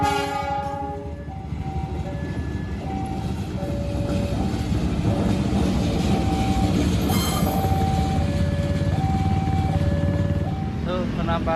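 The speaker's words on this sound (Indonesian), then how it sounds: "ini kebetulan ada kereta nih, langsiran lokomotifnya Cikuray nih" A locomotive rumbles steadily while shunting at Garut station in Indonesia at night, its horn sounding in repeated stepped tones over constant engine noise.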